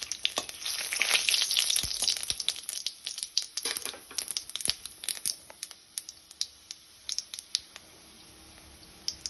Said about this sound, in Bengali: এবার ধোকা ভাজার যে তেলটা ছিল তার মধ্যে আমি দিয়ে দেব ফোড়ন, জিরে, শুকনো লঙ্কা, গোটা গরম মশলা আর তেজপাতা।